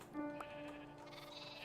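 A single sheep bleat in the video game Minecraft, one short wavering cry over a soft, steady background hum.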